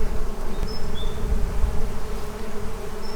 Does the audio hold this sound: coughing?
no